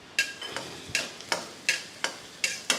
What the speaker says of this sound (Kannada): ಇಷ್ಟನ್ನು ಮಾಡಿ ಚೆನ್ನಾಗಿ ಆಯಿಲಲ್ಲಿ ಫ್ರೈ ಮಾಡ್ತಾ ಇರ್ತೀನಿ.